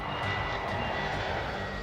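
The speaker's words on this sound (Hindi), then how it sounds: "दोनों ने सेना के एम्ब्रेयर विमान से उड़ान भरी।" An Army Embraer aircraft in flight between Delhi and Tamil Nadu gives a steady, close engine drone with a low hum and faint tonal whine, unbroken and without speech.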